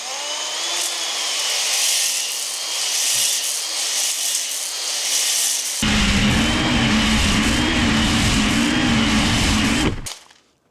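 A drill spins a dingle ball hone inside an engine cylinder bore: a steady, loud whirring grind that thickens and deepens partway through, then stops abruptly near the end.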